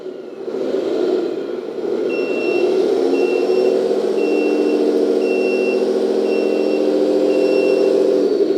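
Model 8x8 hydraulic roll-on/roll-off dumper truck reversing, with an electric motor whining steadily as evenly spaced reversing beeps repeat over it, close and clear.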